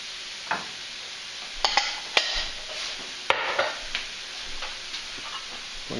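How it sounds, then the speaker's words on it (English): Garlic and green onion fry in a pan with a bright hiss and sharp intermittent clicks and taps of a utensil, with no talking. "I'm going to let that cook for just about 30 seconds or so"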